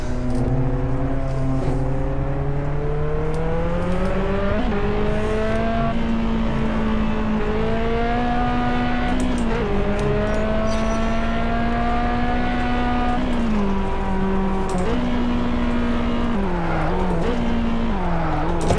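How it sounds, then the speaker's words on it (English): A deep, rumbling twin-turbocharged V8 of a McLaren P1 in Test Drive Unlimited 2 revs continuously, its pitch rising and dropping through repeated gear changes, loud and close throughout with no talk. "this is a twin turbocharged V8 engine"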